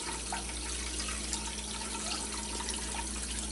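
Steady running water from a tap pours continuously into a sink, a constant hiss and splash at close range with no voices.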